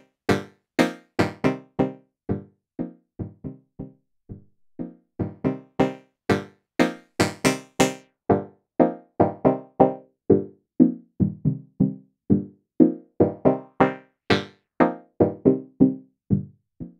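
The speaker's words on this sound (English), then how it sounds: "So you can hear the filter doing its job," Short plucked synth-like tone notes pass through a state variable low-pass filter with no reverb, a dry, steady run of separate notes whose brightness shifts as the filter opens and closes, with no voices.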